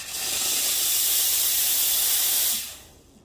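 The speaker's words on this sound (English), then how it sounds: "the steam power on the quick meal Rubino is a monster" A Quick Mill Rubino espresso machine's steam wand purging, a loud, powerful continuous hiss of steam that holds steady for about two and a half seconds, then cuts off abruptly.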